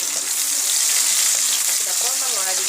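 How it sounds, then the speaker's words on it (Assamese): Chopped onions frying in hot oil in a pan for a coconut milk fish curry, a dense, loud, continuous hiss and sizzle with a voice faintly audible beneath it. "এতিয়া এটা ফুটিছে ইয়াতে পিঁয়াজখিনি দি দিব কাটি লোৱা পিঁয়াজখিনি"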